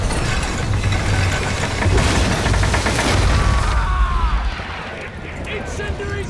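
Incendiary explosions go off during a naval battle cutscene in Ryse: Son of Rome, with heavy booms and crackling fire layered under dense battle noise that thins out near the end.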